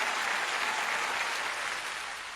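Steady, dense applause from a seated audience at a Hindi poetry recital, even and fairly loud throughout, easing slightly toward the end.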